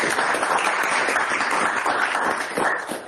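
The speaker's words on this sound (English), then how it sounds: "let's just give our panelists a round of applause, please." An audience at a panel event on social justice discourse claps for the panelists, a dense, loud, sustained round of applause that tapers slightly at the end.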